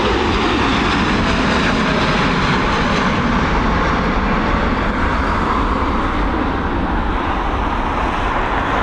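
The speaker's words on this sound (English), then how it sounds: "Here we go, this 787-8 Series Dreamliner operated by American Airlines heading over to Chicago." An American Airlines Boeing 787-8 Dreamliner takes off from Dublin Airport runway 28R, a loud continuous jet-engine roar that rumbles steadily throughout with no talking.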